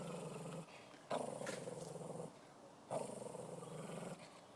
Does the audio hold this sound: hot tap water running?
no